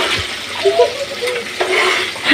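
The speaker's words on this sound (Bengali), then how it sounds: "কড়াইয়ে চিকেন ভাজতেছি" Loud, steady sizzling of chicken frying in a hot wok, with occasional scraping stirs and clinks throughout.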